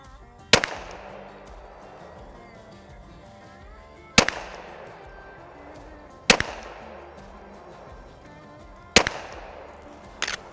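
Four loud, sharp gunshots ring out at uneven intervals while a red dot sight is zeroed at a shooting range, each crack followed by a short echoing decay, with quiet pauses between them.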